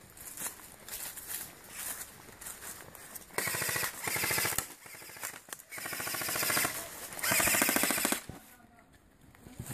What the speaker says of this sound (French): le bruit que vous avez entendu c'est les billes qui n'arrivent plus dans le puits de chargeur